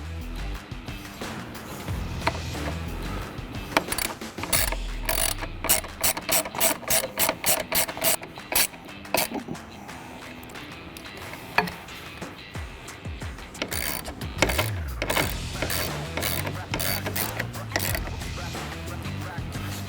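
A ratchet fitted with a T40 bit drives M8 screws into the rear halo assembly of a Bronco, clicking in rapid bursts of ratcheting with short pauses between strokes, close and clear.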